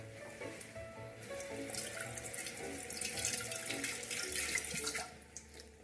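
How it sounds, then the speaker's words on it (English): Steady tap water runs and splashes in a kitchen sink as sea vegetables are rinsed under it, a continuous close hiss with shifting splashy texture and no talk. "I'm going to rinse these sea vegetables."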